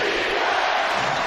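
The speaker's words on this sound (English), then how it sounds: "Crowd loving it." A basketball arena crowd during an NBA game between the Indiana Pacers and Los Angeles Clippers roars and cheers loudly and steadily, a dense wash of voices that fills the space.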